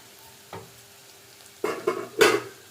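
A spoon stirs Maggi noodles with masala in a pan, giving a few soft scrapes and clinks followed by two louder sizzling, scraping strokes close by, with no talking.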